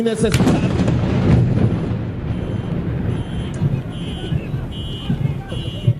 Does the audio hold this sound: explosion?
yes